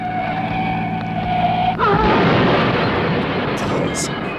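Radio drama car crash and fire effect: an engine hum breaks into a sudden loud impact, then a roaring, crackling burst that keeps going, with a couple of sharp high clinks near the end.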